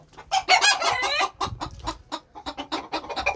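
Backyard chickens cluck and peck while eating grain, with a rooster's crow-like call near the start followed by a run of short, close clucks and pecking taps.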